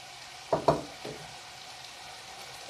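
Vegetables with garlic fry in a pan, a faint low sizzle with a few brief stirring clinks near the start, then a quiet steady hiss.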